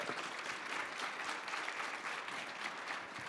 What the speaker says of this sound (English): Can we get an applause for Jennifer?